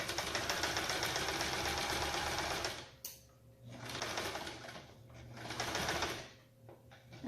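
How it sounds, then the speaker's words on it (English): A sewing machine whirs rapidly through fabric in a long run, stops briefly, then stitches in two shorter bursts, close and steady. "I'm going to sew straight down these two lines"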